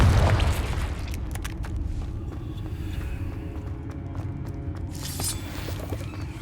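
Confringo explosion spell cast in Hogwarts Legacy: a loud, deep boom at the start that rolls off into a long rumble, with a few sharp cracks and scattered impacts following.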